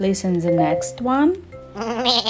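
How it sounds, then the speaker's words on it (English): A goat's wavering, quavering bleat rises between bits of speech, with a second bleat-like cry near the end; loud and near, partly overlapping the talking. "It's a sound of goat."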